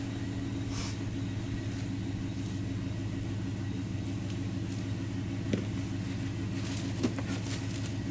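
A Stickler log splitter engine idles in a steady, low, throbbing rumble with an even rhythm, heard up close and continuous, with a couple of faint knocks.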